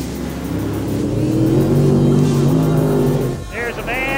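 Race car number 17 crossing the finish line at a race, a loud engine roar building and sustained close by before dropping away, with a commentator talking over it.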